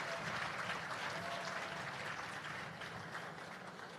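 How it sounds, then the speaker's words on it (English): Steady applause from the audience at a Jamaica Civil Service Long Service Awards ceremony, honoring a band, a dense wash of many hands clapping that holds fairly loud throughout and eases slightly toward the end. "I think they too deserve a round of applause"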